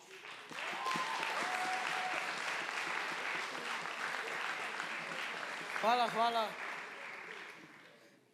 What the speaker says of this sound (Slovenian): En aplavz za Perkota.